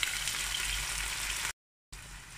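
Beef pieces and beef ribs frying in a pan with golden-browned garlic and onion give a steady, loud sizzle that cuts out abruptly partway through, then resumes.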